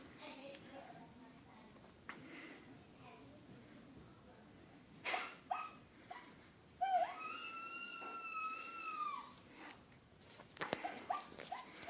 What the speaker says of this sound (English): So try some howls here.